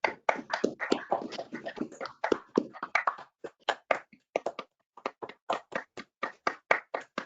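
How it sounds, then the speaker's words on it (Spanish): Applause in an online meeting after a presentation, as several participants clap and tap near their microphones, starting as a dense burst and thinning into scattered separate claps. "vamos a darle un fuerte aplauso a Mariana y a Germán por esta gran exposición"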